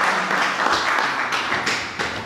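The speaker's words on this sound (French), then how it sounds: "Sous vos applaudissements," An audience applauds at an award ceremony in Brussels honoring Jossart Nyoka Longo with the Rumba Prize, a dense, steady patter of many hands clapping at close range for a couple of seconds with no talk over it.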